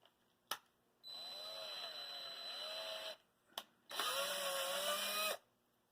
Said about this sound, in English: So I'm having to drill a little bit bigger hole